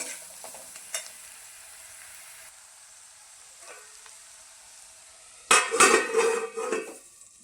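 Chopped tomato chutney ingredients sautéed in a pan, with faint scraping and stirring early on, then a loud burst of sizzling frying and clattering utensil strokes near the end.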